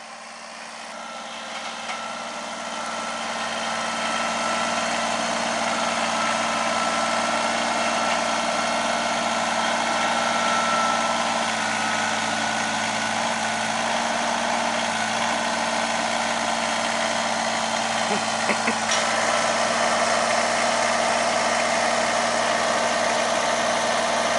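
A tractor engine idles with a steady, droning rumble, close and continuous throughout, with a faint metallic clink partway through.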